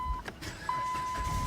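A key turns in the ignition of a 2008 Dodge Journey with small mechanical clicks, over a steady thin electronic chime tone inside the car. No one speaks.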